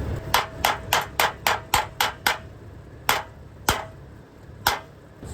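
Hammer straightening dents out of a rusty, bent VW Beetle chrome bumper, a quick run of about eight sharp metallic blows, then a few slower, spaced strikes, close and loud with no talking.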